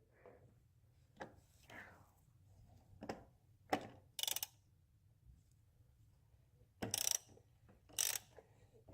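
A socket ratchet tightens a part during an oil change on a Mercedes CLA, giving several short, sharp bursts of close clicking separated by pauses against a quiet background.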